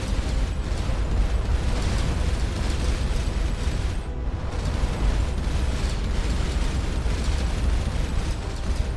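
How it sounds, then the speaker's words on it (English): A spaceship autocannon fires in a video game, a continuous rumbling barrage of rapid bursts and booms that stays loud and dense with only a momentary dip midway. "Just using the autocannon there,"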